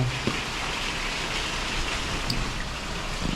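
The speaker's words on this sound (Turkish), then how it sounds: "Tam çıkıyorduk yağmur hızlandı." Heavy rain falling steadily in a dense, continuous hiss, close and fairly loud, with no voices.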